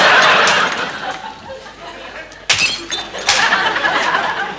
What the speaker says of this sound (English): Why are you smashing up saucers